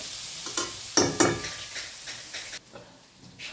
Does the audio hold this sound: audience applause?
no